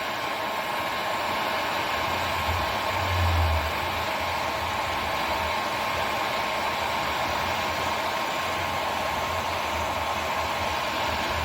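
A heat gun blows a steady, loud hiss of hot air while warming faded plastic panels on a Honda 400EX ATV. The whir runs unbroken from start to finish with no voices.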